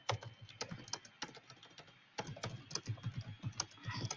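Fast typing on a computer keyboard while writing a note, with dense clattering keystrokes, a brief pause midway, then another steady run of close, crisp clicks, no talking.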